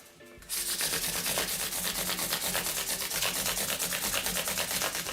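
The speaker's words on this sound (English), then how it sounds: "just using progressively finer sandpaper" Fine-grit sandpaper rubs steadily over a Strat-style guitar body, a close, loud, continuous rasping with rhythmic back-and-forth strokes starting after a brief quiet moment.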